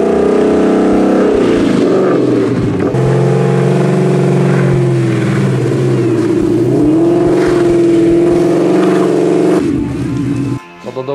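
A Ford Mustang GT 5.0 V8 widebody with a modified original exhaust revs loudly up close, its deep engine note climbing and falling through several sustained pulls before cutting off near the end.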